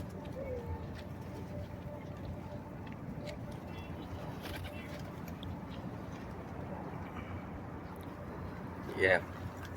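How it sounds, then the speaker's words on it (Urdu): Pigeons cooing softly amid a steady outdoor murmur near a mosque in Medina, with a short sharp call rising near the end. "ماشاءاللہ سارے کبوتر آ گئے ادھر ہی"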